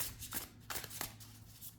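Small tarot cards are shuffled by hand in a few quick, soft papery bursts at close range, all fairly quiet.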